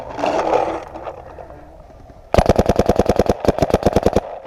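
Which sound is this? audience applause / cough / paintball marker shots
paintball marker shots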